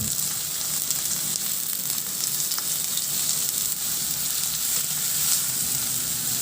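Onion and garlic sauté in hot oil in a pan, part of a simple Filipino fish dish, giving a steady, close, even sizzle throughout with no voices.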